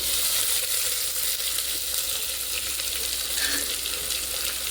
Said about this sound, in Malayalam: അപ്പോൾ ഇനി നമുക്ക് സവാള ഇട്ട് കൊടുക്കാം